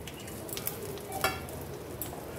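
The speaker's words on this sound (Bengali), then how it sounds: "দারচিনি আর খানিকটা জয়িত্রী দিয়ে দিলাম।" Cinnamon and mace frying in hot oil and butter give a faint, steady sizzle with a few soft clicks and pops scattered throughout.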